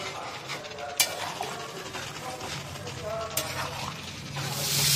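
Prawns fry with spring onion stalks in a pan for a Bengali piyajkoli chingri, giving a soft continuous sizzle with stirring scrapes and two sharp clinks from a utensil.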